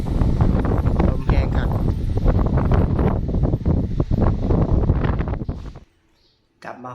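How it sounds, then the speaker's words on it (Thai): Strong wind gusts buffeting the microphone at an outdoor house construction site, a loud continuous rumble and roar under a man's speech, dropping away briefly near the end. "สังเกตลมมันนะ"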